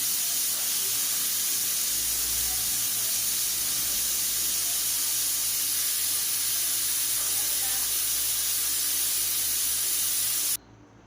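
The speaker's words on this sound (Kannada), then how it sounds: "ಒಂದೆರಡು ವಿಸಲ್ ಇಲ್ಲಾಂದರೆ ಮೂರು ವಿಸಲ್ ಬರೆಸ್ಬೇಕು" A pressure cooker cooking drumstick sambar gives a loud, continuous steam hiss that runs steadily for about ten seconds and then cuts off abruptly, close by and not mixed with talk.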